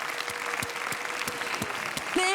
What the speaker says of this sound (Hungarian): nagy tapsot a zenekarnak is